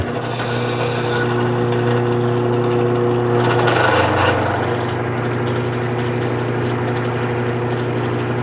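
A steady, loud mechanical whine of an E-size drill bit boring a hole continuously, with a brief surge in grinding noise midway as it bites into material.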